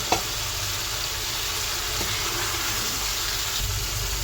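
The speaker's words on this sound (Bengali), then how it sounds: "একটু নেড়ে চেড়ে দিচ্ছি" Onion paste sizzling and frying in a pan for a spicy chicken roast, a steady broadband hiss with a few faint stirring scrapes, close and continuous with no talking.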